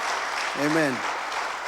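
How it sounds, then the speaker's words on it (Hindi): Congregation at a Sunday Hindi church service applauding to welcome a member back from America, a broad wash of clapping from many hands under a voice. "ताली बजाकर स्वागत करो जोर से"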